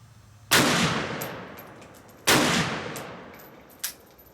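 At an outdoor gun range, a firearm that had light-strike and feeding problems fires two sharp, loud shots about two seconds apart, each with a trailing echo, followed by a fainter metallic clack.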